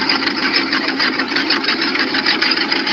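A car engine idles with no throttle applied. It has been consuming coolant and may be knocking, giving a loud, steady, fast clattering tick that runs the whole time.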